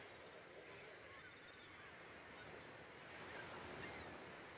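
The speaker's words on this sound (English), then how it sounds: "Look at the waves moving." Ocean waves rolling and washing in a steady, continuous surf with a breezy, windy hiss, heard at moderate distance in the Necronomicon: The Dawning of Darkness PC game, with no talk over it.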